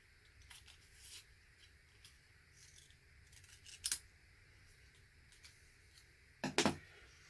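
Quiet rustling of paper, then two crisp scissor snips, one brief and one longer, cutting through card close by.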